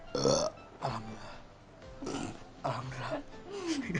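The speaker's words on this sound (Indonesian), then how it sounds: "emang anaknya suka sendawa" Several throaty burps from a girl eating very spicy chicken, spaced apart over a few seconds, close and fairly loud, with brief vocal sounds between them.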